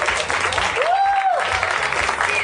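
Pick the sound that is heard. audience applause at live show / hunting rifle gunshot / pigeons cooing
audience applause at live show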